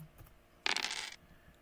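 Dice clatter for about half a second on a tabletop during a tabletop baseball replay, tossed so they miss the dice tower; a bright, close rattle against quiet surroundings.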